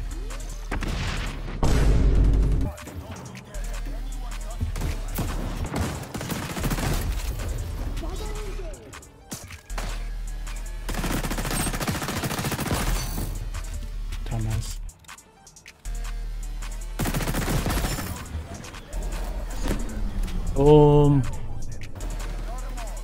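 Bursts of gunfire and explosions in an XDefiant bomb-mode match, loud booms and rapid shots in several clusters separated by brief lulls, with game audio continuing throughout.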